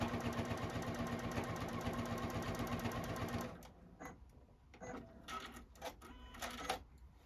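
A JUKI sewing machine stitches a wine glass apron, running fast and steady for a few seconds before stopping, then a few short clicks and handling sounds as the fabric is repositioned.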